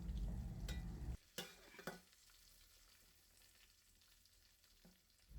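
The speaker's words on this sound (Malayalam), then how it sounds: "നമുക്ക് മീനിനെ മറിച്ചിടാം." Tilapia fish frying in a pan just after being flipped, a country-style fish fry: a few sharp stirring or turning knocks early on, then a low steady sizzle alone near the pan.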